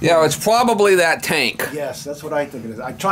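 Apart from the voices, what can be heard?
No everyday noise stands out behind the speech.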